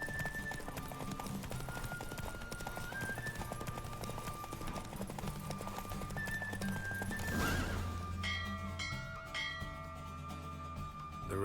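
Horse galloping in a race in The Witcher video game, with rapid hoofbeats running under game music and ambience, then a bell-like chime toward the end.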